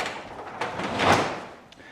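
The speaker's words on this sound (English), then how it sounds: "Let me shut this door." A nearby door swings shut with a soft, muffled thud and a brief rustle, no sharp bang.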